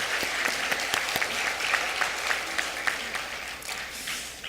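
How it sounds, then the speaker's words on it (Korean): A room full of people clapping steadily in a church service, a sustained round of applause with sharp individual claps standing out. "감사와 격려의 박수를 이 시간 빌어서 한번 드리겠습니다"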